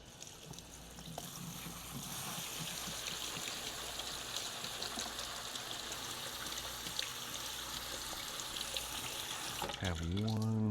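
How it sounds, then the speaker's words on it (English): Tap water runs steadily at moderate level while chickpeas are drained and rinsed in a sink, a continuous broadband splashing rush that swells slightly toward the end, with a brief voice-like sound at the very close. "I gotta drain my chickpeas."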